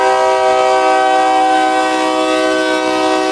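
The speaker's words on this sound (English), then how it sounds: "Oh, come on, Pwalpar, let's get the train going." A mixed freight train's horn sounds one long, loud, steady chord as the train starts to move, close by with no talk.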